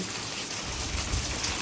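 Rain patters close by in a brief, steady wash of drops on surfaces, moderately loud and without voices.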